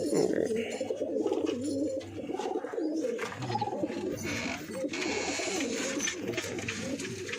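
High-flying breeding pigeons in a loft, giving soft repeated throaty coos in a steady murmuring chorus close by, with someone talking over them throughout.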